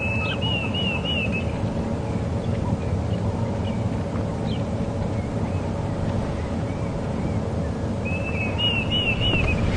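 A Diederik cuckoo calls in distant, high whistled phrases, once at the start and again near the end, over a steady low rumble of wind or engine during a morning safari drive.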